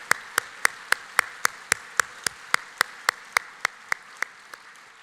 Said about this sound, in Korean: 크게 격려의 박수 부탁드립니다.